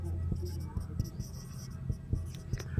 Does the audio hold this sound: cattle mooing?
no